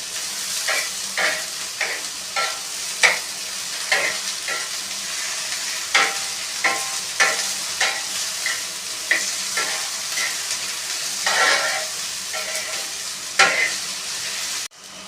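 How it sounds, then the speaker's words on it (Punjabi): Onions frying on a flat iron griddle give a steady close sizzle, broken by regular scraping strokes of a spatula stirring them roughly every second, with no talking. "ਲਓ ਜੀ ਪਿਆਜ਼ ਵੀ ਆਪਣਾ ਭੁੱਜ ਗਿਆ"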